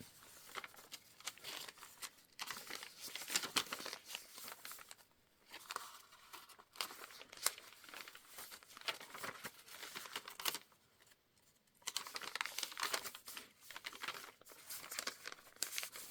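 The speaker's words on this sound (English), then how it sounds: "these are some authentic, very aged index cards that go in this little pocket" Very aged, brittle paper index cards crinkle and rustle in bursts as they are handled and slid into a small pocket of a spring junk journal, close and soft, with brief pauses and no talking.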